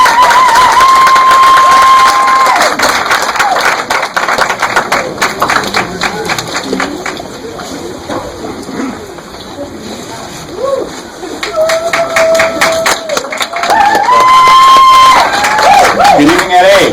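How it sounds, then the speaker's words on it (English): An audience at a film premiere for Vigilante - The Crossing at the Pan African Film Festival bursts into loud, dense applause and cheering, with whoops and shouts rising and falling over continuous clapping, and a voice coming through near the end. "Let's give them a round of applause at this time."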